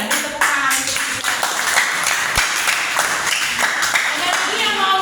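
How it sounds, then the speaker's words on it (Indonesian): Students in a classroom burst into applause, a dense, steady patter of many hands clapping throughout, with a few voices mixed in. "Tepuk tangan untuk kita."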